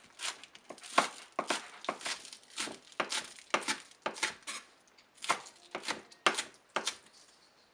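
Scallion greens chopped on a cutting board, a close, crisp run of about twenty knife strikes in an uneven rhythm with brief pauses, heard alone.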